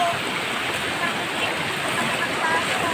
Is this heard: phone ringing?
no